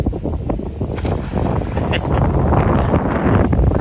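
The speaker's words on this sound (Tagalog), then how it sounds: "Lakas ng hangin mga kapatid." Strong wind at a resort in Batangas buffeting the microphone in heavy rumbling gusts, building louder toward the end, with no talking.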